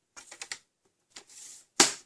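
Card being cut for a small tea light gift box: a few quick crisp snips and a short swish, then one sharp louder slice, close and isolated in a quiet room.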